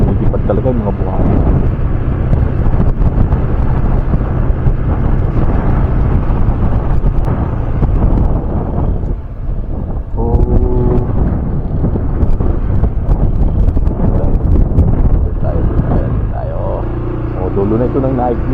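Heavy, constant wind roars into the microphone throughout, loud and blustery, with a voice faintly talking under it, outdoors at a government housing development in Naic, Cavite, Philippines.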